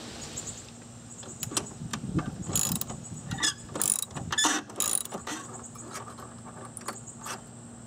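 A 15 mm nut being backed off on the top bracket of a D.E. pool filter, heard as a series of close, sharp ratcheting clicks and metallic clanks in bursts, with no talking.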